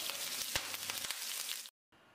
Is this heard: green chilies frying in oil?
yes